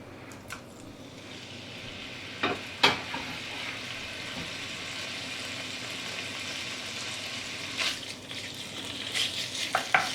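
Bacon frying in oil in a Dutch oven, a soft continuous sizzle with occasional sharper crackles and pops, close and fairly quiet, no voices.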